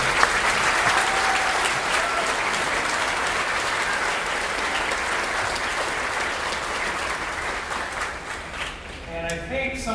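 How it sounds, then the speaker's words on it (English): Sustained audience applause fills a school band's spring concert hall, a dense steady wash of many hands clapping at full strength that thins slightly toward the end. "So if we could please give those gentlemen a round of applause."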